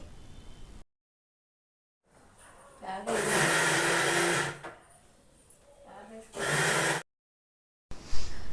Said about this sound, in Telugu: ఒక మిక్సీ జార్లో వేసేసుకొని కచ్చా పచ్చాగా మిక్సీ వేసుకోవాలి